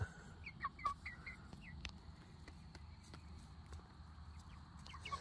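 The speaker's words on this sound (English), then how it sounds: "I have three chickens on my leg." Soft, scattered clucks and chirps from several chickens perched on a person's leg on a Tennessee farm, irregular and fairly quiet, with a few faint taps over a low background rumble.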